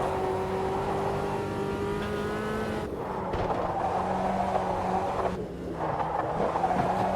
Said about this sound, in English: You can hear from my throttle inputs